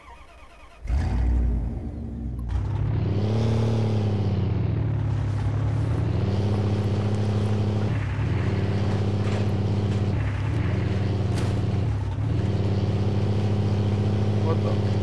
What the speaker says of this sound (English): Cadillac Escalade, man